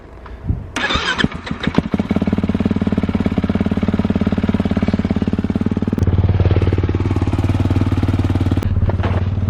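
A Kawasaki KX450 dirt bike is cold-started, sputtering and catching after a few coughs, then settling into a loud, fast, rapid-fire idle with a brief rev around the middle.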